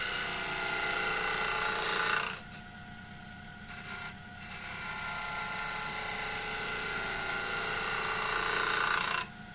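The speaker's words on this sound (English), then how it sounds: "This is a quarter inch spindle gouge and I can get into that. See, again I'm feeling for the cut." A quarter inch spindle gouge cutting a spinning wooden spindle on a woodturning lathe, giving a steady loud rasping scrape with short pauses as the tool lifts off, over the lathe's constant low hum.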